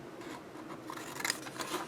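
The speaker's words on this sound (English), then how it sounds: "we're going to end up cutting this at an angle, but I want my bigger scissors for that" Scissors snip through paper while a small coin envelope is cut out along angled lines, a run of close, dry crisp cuts and rustles at low volume with no voices.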